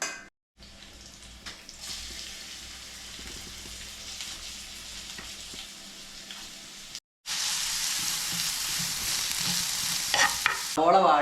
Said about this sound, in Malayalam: സവോള നമുക്ക് വേറെ ഒരു പാത്രത്തിൽ ഇട്ട് വാട്ടിയെടുക്കാം.